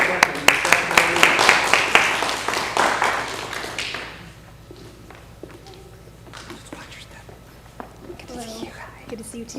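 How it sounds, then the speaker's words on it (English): A community meeting audience gives a round of applause for a station captain: loud, dense clapping for about four seconds that fades, followed by quieter murmuring and scattered taps in the room. "Round of applause for our station captain."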